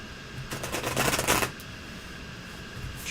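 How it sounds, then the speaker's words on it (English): Tarot cards shuffled by hand in a short riffling burst of papery flicks, fairly close and moderately loud, then settling into quiet room tone. "shuffle, Mr. O, and cut them."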